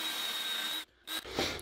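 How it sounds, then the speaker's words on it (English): Drill bit boring a guide hole in a wooden wiping stick for a flintlock trade gun, a steady whirring grind that cuts out briefly, then resumes with a rougher scraping bite into the wood. "we need a guide hole to guide our bit"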